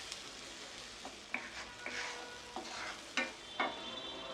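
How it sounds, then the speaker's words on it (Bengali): Spice paste of ginger and garlic paste, garam masala and salt frying in a pan for a beef tripe bhuna, with a soft steady sizzle broken by several sharp spoon scrapes and stirring knocks. "মশলাটাকে ভেজে নিব"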